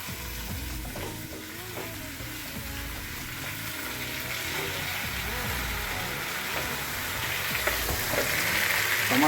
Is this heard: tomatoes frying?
yes